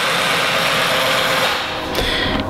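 An electric motor fitted to a cheap Chinese bead roller and run by a speed controller gives a steady, loud, close whirring drone that dips briefly near the end and then carries on.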